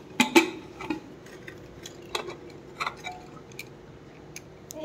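Overcooked, mushy rice is stirred in a pot, giving a few sparse spoon clinks and scrapes against the metal with soft wet sounds between them, quiet and close.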